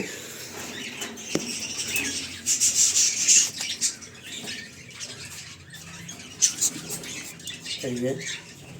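Cockatiels sitting on eggs in breeding boxes rustle and scratch nearby, with brief squawks and chirps, wing flutters and scattered tapping sounds.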